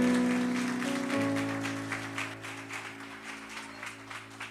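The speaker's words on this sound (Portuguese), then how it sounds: "Você pode dar um aplauso ao Senhor?" A church congregation applauds during a sermon, scattered clapping over sustained organ-like music tones that gradually fades away.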